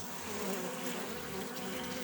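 Honeybees buzz steadily around an open hive during a colony inspection, a faint but continuous hum with no voices.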